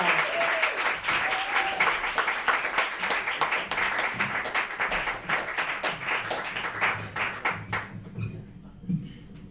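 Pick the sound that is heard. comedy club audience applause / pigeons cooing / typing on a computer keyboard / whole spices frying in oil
comedy club audience applause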